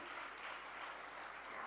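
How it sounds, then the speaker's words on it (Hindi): Faint, distant clapping from an audience at a gathering, a soft, even patter of many hands held at a low level throughout. "जोरदार तालियां इनके लिए।"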